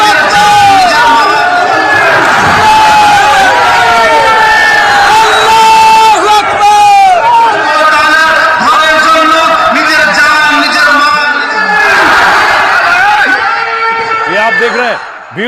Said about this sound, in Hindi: भीड़ देखिए, लोग छतों पर,